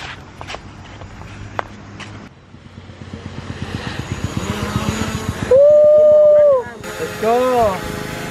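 A small drone spins up its motors and lifts off, giving a rising then sustained whining buzz close by while people talk and cheer over it.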